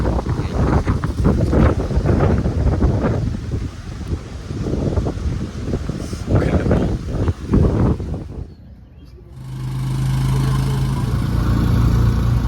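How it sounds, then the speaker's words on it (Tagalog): Strong wind on Bantayan Island roars and buffets the microphone as a loud, steady rush, briefly dropping before returning with a constant low rumble. "sobrang lakas ng hangin."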